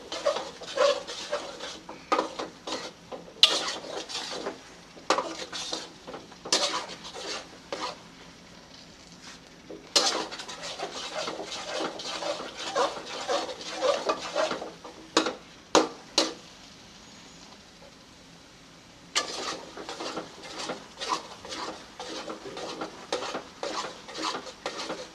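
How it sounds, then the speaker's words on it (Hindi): Spoon stirring semolina milk halwa in a pan as it cooks in oil, with repeated scraping and clinking strokes in steady bursts, a soft sizzle underneath and a brief pause midway. "इस तरीके से इसे हिलाते रहेंगे।"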